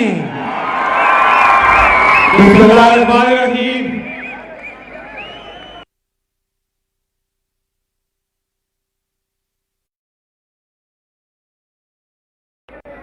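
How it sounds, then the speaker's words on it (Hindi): A crowd at a Pakistan Tehreek-e-Insaf political rally in Muzaffarabad roars with loud cheering, whoops and shouts for about six seconds, swelling then fading, followed by sudden silence. "जोरदार तालियां"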